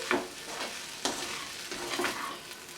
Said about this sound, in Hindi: पनीर को डालने के बाद एक बार फिर से सारी चीज़ों को अच्छे से मिक्स करेंगे